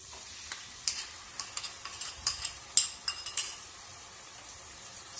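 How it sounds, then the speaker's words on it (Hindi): Onion fried golden brown, now with a spice paste added, being fried in a pan: a steady soft sizzle with repeated scrapes and clinks of a spoon stirring against the pan, and no talking. "इसको भी हम थोड़े से देर के लिए भूनते हैं।"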